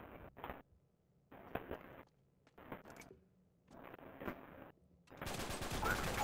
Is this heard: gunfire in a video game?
yes